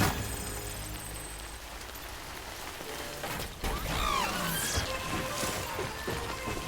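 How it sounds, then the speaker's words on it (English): In the Death Stranding video game, rain patters steadily while a bridge gives way with creaking, crashing and metallic groans midway, and a brief voice is heard at one point. "Oh, the bridge is falling down. So is the rain, though."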